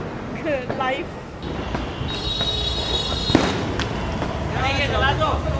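Firecrackers going off outdoors during Diwali celebrations, a few sharp bangs and crackling bursts mixed with people talking and shouting nearby.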